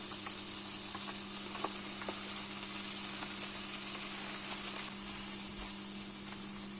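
Sausages, garlic, onion and rice fry in a pan with a steady, even sizzle heard close up and unbroken, with a few faint clicks of stirring and no talking.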